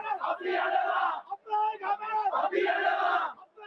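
Anti-government protesters in Sri Lanka chant and shout together in loud, rhythmic bursts, with crowd voices rising and falling in waves and brief pauses between them.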